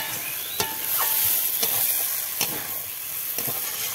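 Masala for a green pea curry stir-fried in a pan, with a steady sizzling hiss and sharp periodic scrapes of a spatula roughly every second, close and fairly loud, with no talking.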